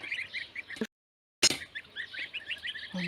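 Young domestic goslings, a batch of about twenty bought together, give repeated soft high peeping calls in short clustered bursts. There is a brief silent gap, then a louder knock, and the close, steady chirping carries on.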